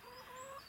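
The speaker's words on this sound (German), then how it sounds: "Darf ich vorstellen, das ist mein Huhn." A hen gives a soft, brief cluck, faint and close, with no other sound around it.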